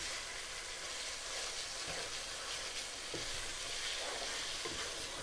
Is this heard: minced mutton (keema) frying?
yes